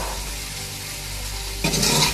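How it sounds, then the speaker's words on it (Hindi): Lentils tipped into a pan of spiced karela sizzling over a flame, a steady fry hiss that suddenly swells louder and brighter as they hit the hot oil. "अब मैं इसमें दाल ऐड कर दूंगी"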